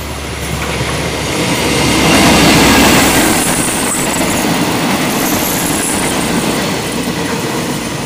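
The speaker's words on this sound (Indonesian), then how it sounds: "itu KLB uji coba dari Lempuyangan ke Solo Balapan" KLB test train running from Lempuyangan to Solo Balapan passes through Maguwo Lama station in Indonesia, a loud continuous roar of wheels and cars, swelling as it nears and sustained close by, with faint squeal.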